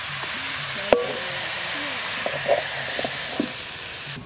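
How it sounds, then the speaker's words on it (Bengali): Kheshari greens frying in a pan on low heat, a steady close hiss and soft sizzle with a sharp knock early on and a few faint stirring clinks. "অল্প জাল দিয়ে ভাজবো।"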